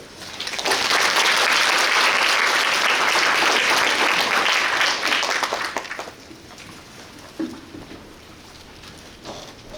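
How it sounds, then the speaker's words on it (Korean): An audience applauds after a presentation at a Suncheon city policy talk show on eco-friendly transport. Dense, loud clapping lasts about five seconds, then thins to scattered claps and quiet room noise. "다시 한번 박용남 소장님께 박수 한번 부탁드리겠습니다"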